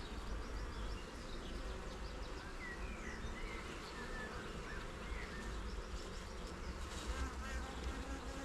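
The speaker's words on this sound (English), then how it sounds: "Way too many bees around her." Honey bees crowd around the queen inside an open hive during an inspection, their dense, steady buzzing filling the whole stretch at close range, with no voices.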